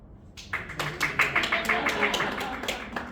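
Audience applause after a magic trick in which a silk vanishes: scattered hand claps build into a steady patter of clapping from a moderate crowd, fairly close and moderately loud, lasting about three seconds.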